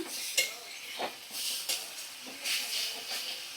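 Ginger-garlic paste sizzles in a hot pan with pieces of bhetki fish, a steady soft hiss broken by a few scrapes of a stirring spoon against the pan.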